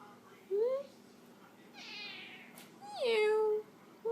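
A cat begging for tuna gives two distinct meows, one short and one longer and rising, between quieter stretches, with a faint voice talking in the background.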